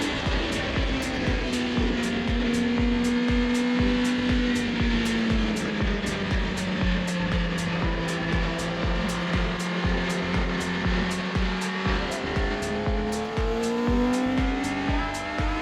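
Motorcycle lapping Donington Park circuit: a steady, loud engine drone with the pitch rising and falling through gears, plus regular wind and mounting buffeting, heard close from the rider's position without talk.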